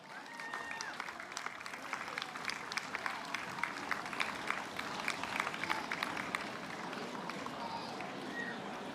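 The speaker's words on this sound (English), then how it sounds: "In third place from Ethiopia, let's give a big round of applause to Amashe Zirahan." Sustained crowd applause at a marathon podium ceremony for the women's place getters at the Gold Coast Marathon, steady clapping and cheering throughout at moderate loudness with a busy outdoor crowd.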